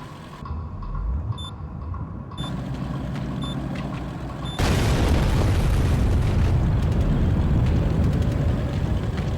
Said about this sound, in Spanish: Incluso a la distancia, la explosión fue enorme.